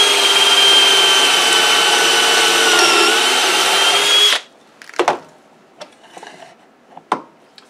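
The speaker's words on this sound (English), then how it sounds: "Let's drill some Craig pocket holes for the inside of these where they're attached to the door." A power drill boring Kreg pocket holes into wooden boards whines loudly and steadily for about four seconds, then stops, followed by a few scattered clunks and knocks of handling the wood.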